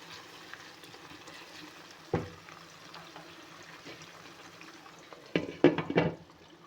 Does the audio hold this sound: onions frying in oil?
yes